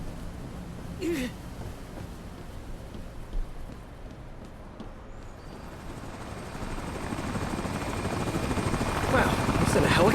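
A helicopter in the video game American Arcadia, a low rotor thrum building steadily from faint to loud as it closes in, with scattered bright in-game effects over the top.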